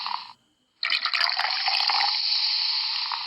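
Watering a plant in the Glow Live mobile app game makes a synthetic running-water sound effect: a short splash, a brief silence, then a loud, continuous pouring and splashing stream that lasts to the end.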